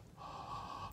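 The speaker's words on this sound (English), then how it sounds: "do some heavy breathing on it." A single heavy, breathy exhale is directed onto super glue to set it on a fly-tying project, a short close airy rush lasting under a second.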